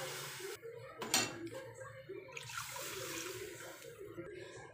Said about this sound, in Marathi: लगेच आपण इथे एक मोठं ग्लास भरून मी पाणी ॲड करणार आहे